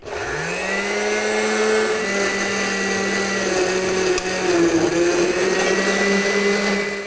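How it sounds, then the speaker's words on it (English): A blender motor spins up and whirs loudly and steadily, its pitch dipping slightly as it chops and purees watermelon, with no voices. "we're going to take a big bowl of watermelon and just put it in a blender"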